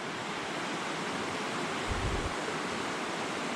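A river flows past a campsite as steady broadband rushing water, continuous and fairly close, with a brief low rumble near the middle and no voices.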